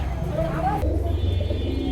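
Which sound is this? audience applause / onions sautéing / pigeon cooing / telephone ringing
pigeon cooing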